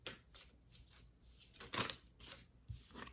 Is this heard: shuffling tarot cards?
yes